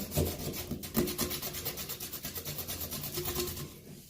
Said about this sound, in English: Because of the corrosion, you do want to sand down the old tub drain.